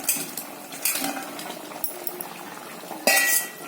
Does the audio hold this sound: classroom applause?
no